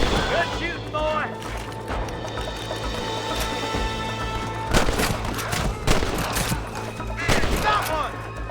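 Gunfire in a Red Dead Redemption shootout, repeated sharp rifle and pistol cracks scattered irregularly over a continuous game background, with voices shouting between the shots.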